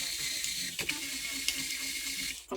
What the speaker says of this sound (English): loosen the strings.